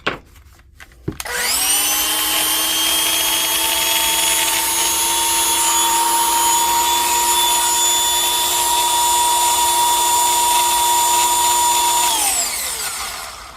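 A DeWalt DCG412 cordless brushed angle grinder spins up after a battery click, holds a loud steady high whine close by for about eleven seconds, then winds down.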